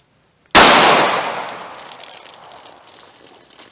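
A single sharp gunshot from a .38 Special pocket pistol fired through a row of water jugs, loud and close, with a sudden onset and a long decaying roar and ring afterward.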